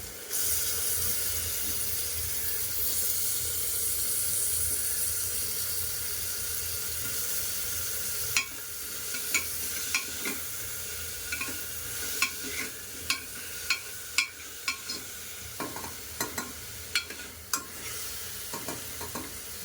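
Cut potato being stirred into sambar in a pot, a spoon scraping and clinking against the metal in irregular close knocks over a steady low simmering hiss, with no talking.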